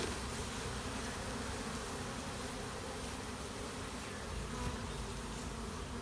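Dense, continuous buzzing of many honey bees close by on hive frames, a steady droning swarm with no pauses.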